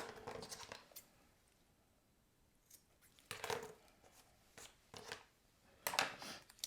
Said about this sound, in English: Now we're going to cut off the bottom of this.